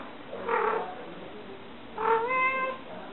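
Two plaintive cat meows, close and clear, separated by a short pause, the second one longer and more drawn out.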